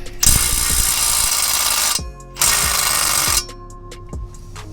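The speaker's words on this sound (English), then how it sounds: "got this drill and I forgot to charge the battery" Cordless drill loosening tight bolts on a 1200hp-rated transmission, two long loud whirring bursts with a short stop between, then quieter clicks and a brief tail.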